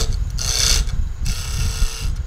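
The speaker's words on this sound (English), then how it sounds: "I'm going to use my bowl gouge here" Wood being turned on a lathe with a bowl gouge while shaping scrap wood, giving a steady close rasping scrape with a brighter hissing cut midway through.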